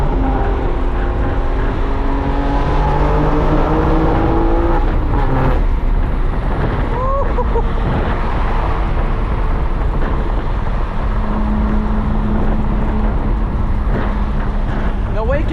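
BMW M3 with an illegal exhaust on a late-night drive, a steady loud engine and exhaust drone with wind rush throughout, rising and falling with revs, while people talk over it.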